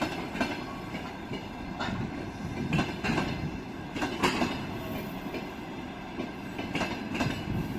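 A train hauled by a Kolomna-built electric locomotive rolls past with its wagons, a continuous heavy rumble and rhythmic clickety-clack of wheels over rail joints, with occasional metallic squeals.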